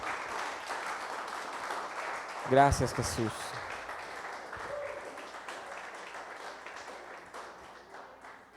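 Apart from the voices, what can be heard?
church congregation applause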